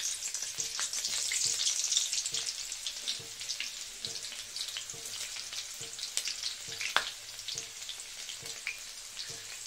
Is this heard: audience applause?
no